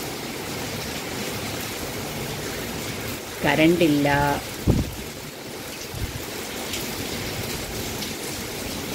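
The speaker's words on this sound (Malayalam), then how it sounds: "അങ്ങനെയുള്ള മഴയാണ് ഇപ്പോൾ പെയ്തുകൊണ്ടിരിക്കുന്നത്." Heavy rain pours steadily in Chennai, a dense, continuous wash of noise filling the whole stretch, with someone briefly speaking over it.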